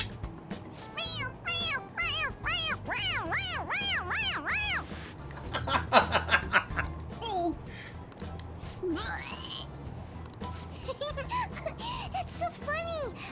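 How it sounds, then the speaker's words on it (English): Rapid strings of mechanical meows from a stuffed toy cat in the video game Persona 5 Royal fire off one after another, then scattered single cries follow, loud and close over a low background hum. "It's a stuffed animal. Yeah, it's just a toy. It meows when you press on its head."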